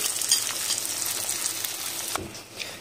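Beaten egg with tomatoes sizzles in a pan for an omelette, a steady close hiss of frying with a slight disturbance near the end.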